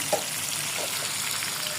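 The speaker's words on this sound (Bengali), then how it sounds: "হলুদটা দিয়ে এটাকে ভাজা ভাজা হতে থাকবে" Food fries in a pan after a pinch of turmeric is added, a soft, even crackling sizzle with a brief stir clink near the start.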